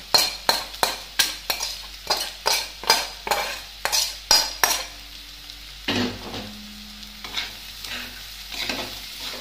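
Bhujia tossed into a pan of frying Bengali fried rice with egg, a utensil scraping and clinking against the metal in about a dozen sharp, regular strokes over a steady sizzle, then quieter frying with scattered clinks.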